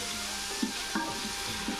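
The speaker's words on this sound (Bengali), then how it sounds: "দিয়ে নাড়াচাড়া দিয়ে পেঁয়াজটা একটু হালকা করে ভেজে নিব।" Onions frying in a pan, a steady hiss of sizzling oil with several soft scraping knocks as a spatula stirs them, close by and with no talking.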